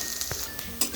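Panch phoron spices hit hot oil with lightly fried onion and give a brief, steady sizzle. A couple of soft clicks and scrapes from the spoon are heard close by. Nobody speaks.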